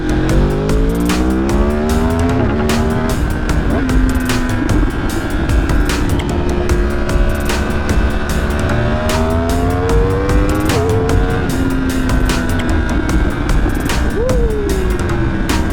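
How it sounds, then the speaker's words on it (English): A Yamaha R1 motorcycle rides fast through traffic, its engine droning loud and close, rising and dipping in pitch through gear changes over steady wind rush. "So unbelievable how fast an R1 is."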